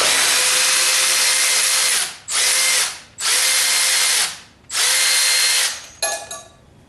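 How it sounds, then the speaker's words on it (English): A power drill whirs loudly in several bursts of about a second each, with brief pauses between, ending in a short sputtering spin-down as it loosens bolts on a 1976 Corvette differential. "I can take these off with a power tool because it's loosening."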